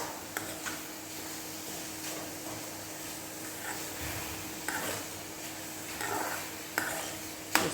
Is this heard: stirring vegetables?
yes